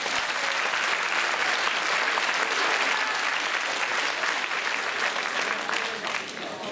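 A crowd claps loudly and steadily for an eight-year-old boy singer at a 2014 radio singing contest in Bain-de-Bretagne, the dense applause continuing throughout and easing slightly at the very end.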